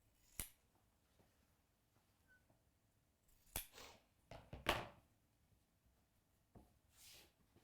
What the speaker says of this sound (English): What I'm going to do is just in the corners, snip them.